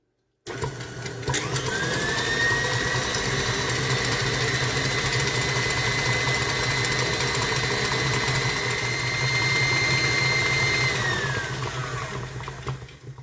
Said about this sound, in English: I'm going to turn my mixer on high and I want to beat that until that is light and fluffy